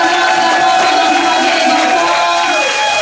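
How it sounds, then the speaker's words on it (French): A church congregation at a Christmas service cheers and acclaims loudly, a dense, sustained crowd roar with whoops and raised voices, filling the space evenly throughout. "Lorsqu'il s'approche, nous acclamons très fort pour le Seigneur"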